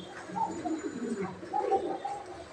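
A large Romanian racer pigeon coos softly in a few low, throaty phrases, close by, with no talk over it.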